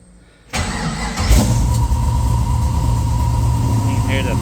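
A 1969 Chevrolet C-10 pickup with a swapped-in 6.0L LS V8 fires up after brief quiet and settles into a loud, steady rumbling idle, close by.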